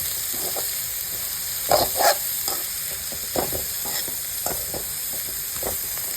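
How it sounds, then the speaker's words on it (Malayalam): Cauliflower leaves frying in a pan for thoran, a constant bright sizzle with scattered scraping and clattering stirs, a couple of louder scoops standing out. "കോളിഫ്ലവറിൻ്റെ ഇല ഇട്ട് കൊടുത്ത് നമുക്കൊന്ന് മിക്സ് ചെയ്ത് കൊടുക്കാം കേട്ടോ"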